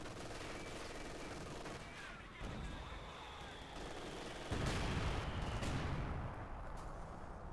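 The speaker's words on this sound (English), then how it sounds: "Brummbar firing more." Brummbar assault gun firing in Company of Heroes 2, heavy booming shots and rumbling battle noise filling the scene, with a louder blast around the middle and continuous gunfire beneath.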